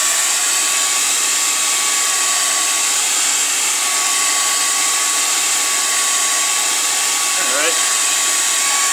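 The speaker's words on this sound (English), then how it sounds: "I use my heat gun, activate that 3M glue." A heat gun blows a loud, steady, even roar the whole time while warming the 3M adhesive tape of an alloy wheel rim protector, with only a faint shift in pitch near the end.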